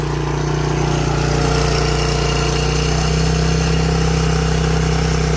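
A 1987 Suzuki SP 200 barn-find motorcycle idling a little high, a loud, steady single-cylinder drone with a constant low hum, close and uninterrupted.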